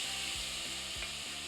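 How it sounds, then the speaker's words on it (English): Pork sizzles loudly and steadily in very hot oil for a stir fry, a dense crackling hiss close by, with a few soft scraping or stirring sounds underneath. "You can hear that sizzle. Means my oil is hot enough"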